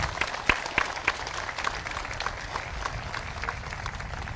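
Triton High School graduation crowd applauding in 2018, a dense, continuous patter of many hands with a few sharper nearby claps standing out early, steady in level throughout.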